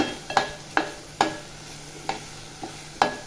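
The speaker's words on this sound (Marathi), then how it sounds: "छान परतून घ्यायचं मसाला बघा छान असा परतलेला आहे" Chana masala sautéing in a pan with crushed kasuri methi, a spatula scraping and stirring in repeated strokes over a faint, steady sizzle, close and fairly quiet.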